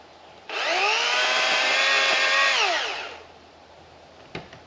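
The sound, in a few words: Master Force 80 volt cordless chainsaw running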